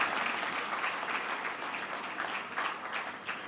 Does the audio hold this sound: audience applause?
yes